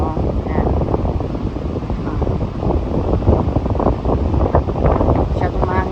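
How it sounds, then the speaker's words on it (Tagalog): Strong gusting wind at Waterton Lakes batters the microphone with a loud, continuous, rough rumble. The noise rises and falls slightly throughout. "Masyadong mahangin dito."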